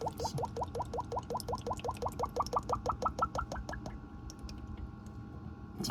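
Oil from the magnetic drain plug on a Mazda CX-50 transfer case or differential drips in a quick steady patter of small plops, which slows and fades after about four seconds, close up.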